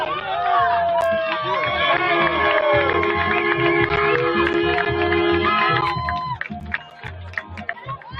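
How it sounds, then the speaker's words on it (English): Crowd noise at a Siouxland United soccer match, a dense roar of cheering and chatter that swells loudly for several seconds before thinning out, with voices mixed in. "And the crowd loves that one"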